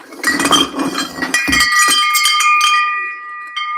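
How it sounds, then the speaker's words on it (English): Metal wind chimes clink and ring close by in a burst of overlapping strikes. Bright bell-like tones then linger and fade. "I got some wind chimes that I gotta fix."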